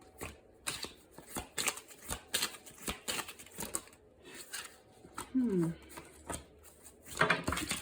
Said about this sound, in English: Let me shuffle real quick for Pisces.